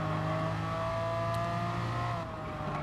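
A Ferrari F50 in Gran Turismo Sport holds a steady high-revving engine drone with layered harmonic whine, a constant mid-distance roar that dips slightly near the end.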